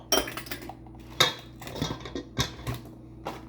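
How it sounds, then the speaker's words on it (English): A whisk rattles against a bowl while mixing baking soda and dry ingredients for oatmeal cookies, a series of uneven clinking taps close by with quiet pauses between. "we're going to get a whisk and we're going to mix this together"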